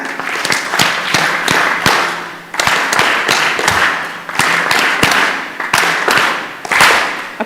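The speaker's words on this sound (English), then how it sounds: "let us give them 5 factorial claps" A large audience at a national research festival claps in unison, with sharp synchronized claps in repeated counted groups separated by brief gaps, loud and close.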